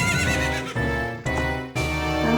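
A horse whinnies in the video game The Legend of Zelda: Ocarina of Time, a loud, bright neigh repeated in three close bursts with a shaking, wavering pitch.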